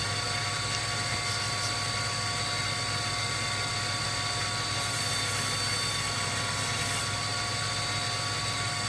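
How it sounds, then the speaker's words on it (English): Belt grinder shaping a wooden handle for a forged rounding hammer, producing a loud continuous whirring drone with steady abrasive hiss, unbroken for the whole stretch and with no voices. "and then onto the belt grinder again."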